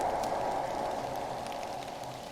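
Steady rain falls in a late-night horror video game scene, a dense, even hiss of drops on surfaces that holds at the same level throughout, with no talking.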